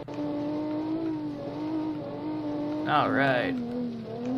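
Race car engine in BeamNG.Drive climbing a gravel hill, droning steadily with pitch sweeps as it hunts between gears, then a sharp rev burst near the end; a voice talks briefly over it.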